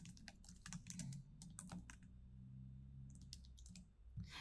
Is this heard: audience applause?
no